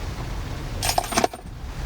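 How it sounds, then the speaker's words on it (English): Metal keys drop and jangle in a brief bright cluster of clinks near the middle, close and sharp against a low steady rumble of rain outdoors at Swamp Creek, Colorado. "Oh, there's my keys."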